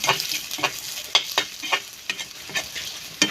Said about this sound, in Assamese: এই পিঁয়াজখিনি দি কিমান সময় ভাজিবা?